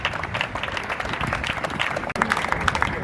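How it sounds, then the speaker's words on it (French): A crowd keeps clapping for the comedian Cocodioko, a broad continuous wash of applause with a few cheers, lasting a few seconds with a brief dip near the end. "Non, est-ce qu'on peut bien ovationner Cocodioko?"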